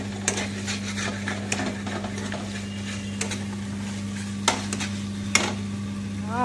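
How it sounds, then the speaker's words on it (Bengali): Mixed vegetable chorchori with greens and stalks cooks in a pan, a soft sizzle with scattered scraping and clinking spoon strokes over a constant low electrical hum, close and steady, with no talking. "আর এদিকে মা বানাচ্ছে হচ্ছে সব রকম সবজি দিয়ে একটা চচ্চড়ি"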